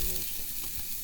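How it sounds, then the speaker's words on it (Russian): Meat broth simmering on a low flame over an outdoor camp fire, a steady soft bubbling sizzle with no pauses throughout the short stretch. "Мясо должно медленно кипеть."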